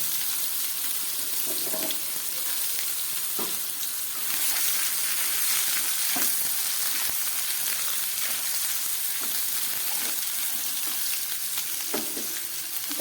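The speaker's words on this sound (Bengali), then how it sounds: "এবার এই তেলের মধ্যে আমি এই সিদ্ধ করে রাখা আলুটাও দিয়ে দিচ্ছি" Boiled potatoes sizzle steadily in hot oil in a pan while making a paneer dish, with a continuous close crackle and a few soft stirring scrapes, no voices.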